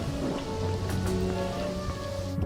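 Steady rain falling during a storm on a wet, cloudy ocean planet, a dense continuous patter of drops with no voices or clear thunder.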